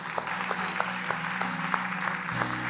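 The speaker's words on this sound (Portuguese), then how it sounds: "Uma salva de palmas a Deus por esses homens." A church congregation claps during an evangelical worship service, quiet and somewhat distant, with scattered individual claps over a low steady hum.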